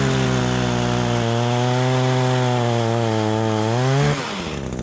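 An Echo PPT 2620 gas pole saw cuts through wood with a steady, loud two-stroke engine whine that holds and sags slightly under load, then drops abruptly to a lower idle near the end.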